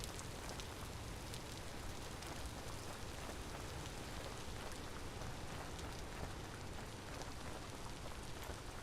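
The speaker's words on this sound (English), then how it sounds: "it's just a pain in the ass when it's raining" Steady rain falls throughout in the survival game Vintage Story, a constant broadband hiss of drops on surfaces at a moderate, unbroken level with no talk over it.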